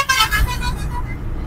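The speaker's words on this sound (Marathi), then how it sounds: "पूर्ण जाम आहे सगळा रस्ता. गाडीला गाडी लागलेली आहे." Dense traffic jam on the old Kalyan-Nashik highway, with engines idling and a car horn honking briefly near the start amid a continuous low road rumble; a voice speaks over it.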